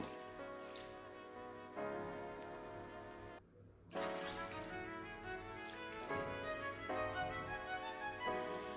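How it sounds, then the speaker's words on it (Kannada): Water runs steadily into a cooking pot of radish, its pitch shifting as it fills, with one brief pause before the flow resumes. "ಮೂಲಂಗಿ ಮುಳುಗಷ್ಟು ನೀರು ಹಾಕಬೇಕು."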